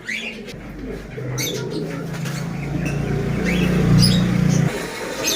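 A pigeon offered for sale in Khulna gives a low, throaty, drawn-out coo that swells louder before cutting off, over faint background noise.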